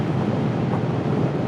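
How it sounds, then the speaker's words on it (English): Steady, loud wind roars into the microphone during a scooter ride, a continuous low rumbling buffet with no voices. "Oh, it's windy."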